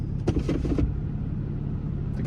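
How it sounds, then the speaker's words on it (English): A parked truck idles nearby with its auxiliary power unit running, a steady low engine rumble holding throughout, with a few brief clatters near the start. "You hear one truck, you hear this guy's APU"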